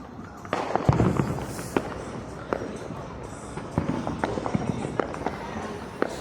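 Fourth of July fireworks and firecrackers burst repeatedly at middle distance on a city street in Allentown, sharp cracks and pops spread unevenly over several seconds, with crowd noise and occasional voices in the background.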